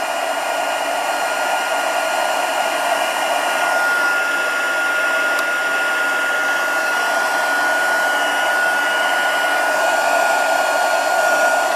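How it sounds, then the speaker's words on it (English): A heat embossing tool blows hot air close to a handmade card, giving a loud, constant fan-like whoosh that holds unbroken for the whole stretch, with no talking. "So as ever with heat embossing, you just hold it near where your embossing is."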